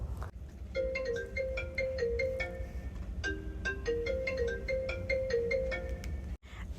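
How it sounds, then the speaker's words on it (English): A phone ringtone plays a bright melodic pattern of repeated electronic notes at steady volume for several seconds, then cuts off abruptly, with no voices over it. "your phone starts to ring"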